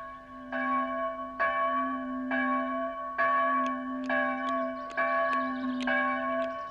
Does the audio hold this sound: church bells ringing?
yes